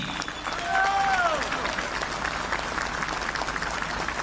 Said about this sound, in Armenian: ես ուզում եմ, որ մենք բոլորս բարձր ծափերով ողջունենք 10 եպիսկոպոսներին